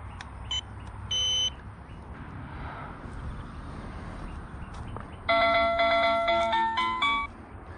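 A wireless solar-powered driveway alarm receiver chimes on detection, a loud multi-tone melodic chime lasting about two seconds near the end, after a couple of short faint beeps over quiet outdoor background.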